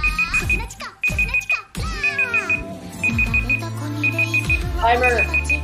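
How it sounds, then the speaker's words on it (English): A timer alarm beeps in repeated rapid bursts, roughly once a second, under excited overlapping talk and laughter from several people indoors. "Timer!"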